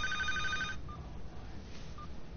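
A telephone rings indoors with a short electronic trill at the start, then faint quiet room tone with small blips after the ring stops.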